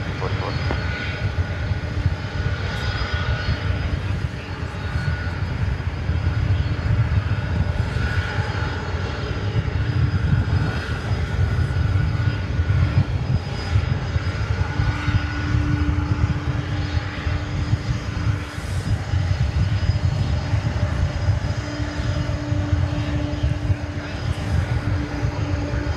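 An airplane takes off at DFW Airport, a steady broad engine roar holding loud across the whole stretch with no clear rise or fade, while a voice talks over it intermittently.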